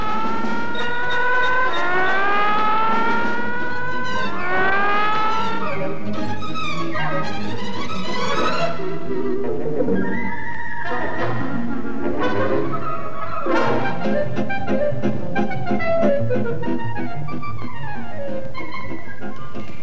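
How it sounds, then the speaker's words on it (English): An ambulance siren in an animated cartoon wails in loud rising and falling sweeping tones, blending into bright, busy cartoon music throughout. "I'll send an ambulance right out."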